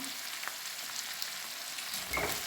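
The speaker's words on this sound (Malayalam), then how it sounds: "ഇതെല്ലാം കൂടി ഇട്ട് നന്നായിട്ടൊന്ന് വഴറ്റിയെടുക്കാം" Sliced onion, green chili and curry leaves sauté in a pan with a quiet, even hiss and a few light scraping stirs, growing slightly louder at the end.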